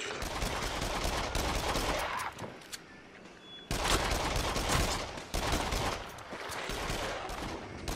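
Gunfire in the shooter game Rush of Blood: dense, continuous bursts of rapid shots that drop away briefly and then resume, loud and close.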